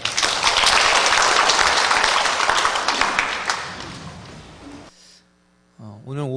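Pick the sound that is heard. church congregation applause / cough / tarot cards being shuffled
church congregation applause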